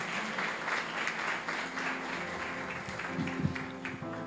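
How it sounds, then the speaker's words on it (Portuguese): Congregation applauding in a church during a baptism and Lord's Supper service, a steady dense round of clapping with a sung or spoken voice faintly underneath. "Uma salva de palmas para o Senhor"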